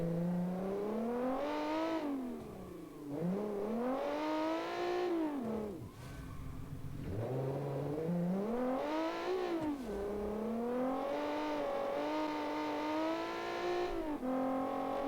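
Rally car engine in a classic 1972-season rally video game, revving up repeatedly in rising sweeps with brief drops between gear changes, loud and steady throughout with no talk.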